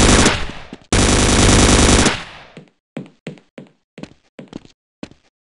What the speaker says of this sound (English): Open fire, Gordon!